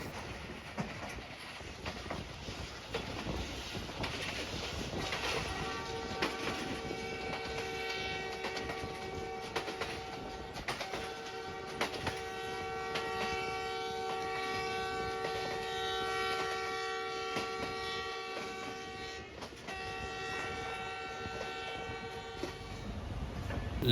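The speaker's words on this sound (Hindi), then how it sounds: "ट्रेन हमारी समरिया रेलवे स्टेशन से गुजर रही है।" Sialkot Express passenger train running along the track near Samaria station in Pakistan, a steady rolling rumble with long sustained horn tones sounding over it for much of the stretch.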